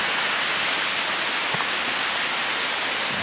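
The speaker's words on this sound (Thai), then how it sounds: "เราอยู่เบื้องล่างน้ำตกตาดใหญ่นะครับ" Tad Yai waterfall heard from below, a constant loud broadband rush of falling water filling the whole stretch without a break.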